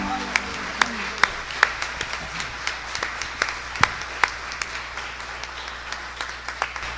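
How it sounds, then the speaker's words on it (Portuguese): A church congregation claps steadily in a reverberant hall, a sustained run of rhythmic hand claps at moderate loudness, with a low hum beneath and no talking over it. "Pode glorificar Deus com palmas."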